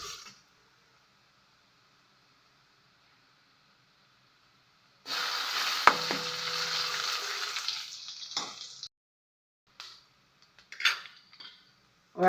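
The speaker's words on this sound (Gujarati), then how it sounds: "ડુંગળીને બરાબર સાતળવાની છે, નહીંતર કચાશનો ટેસ્ટ આવશે." Onions sautéing in a pan for Manchurian, a sizzling frying hiss that starts partway through, with utensil scrapes and clinks as they are stirred, then shorter bursts of sizzle after a pause.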